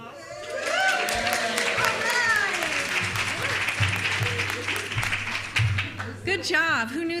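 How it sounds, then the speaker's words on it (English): A crowd at a community gathering breaks into a round of applause, sustained dense clapping throughout, with people talking and exclaiming over it. "All right, round of applause."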